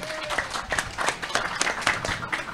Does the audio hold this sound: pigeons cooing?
no